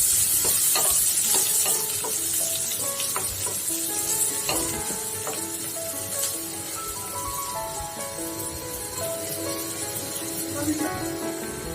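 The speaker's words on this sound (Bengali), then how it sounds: "মরিচের সাথে পেঁয়াজটা আমি আরো কিছুক্ষণ ভেজে নিব।" Sliced onion and green chillies sizzle in hot oil in a pan, with a steady close hiss broken by repeated scraping stirs, while soft background music plays and no one speaks.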